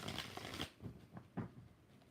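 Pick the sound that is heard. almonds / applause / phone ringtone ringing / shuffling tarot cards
shuffling tarot cards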